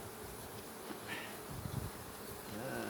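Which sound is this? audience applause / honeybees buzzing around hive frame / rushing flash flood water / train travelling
honeybees buzzing around hive frame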